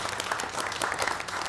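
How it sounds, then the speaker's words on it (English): An audience at a city council meeting in Linden claps together in a short burst of steady, moderately distant applause. "so I'm going to ask Amy if she would kindly stand so we can just give her a round of applause"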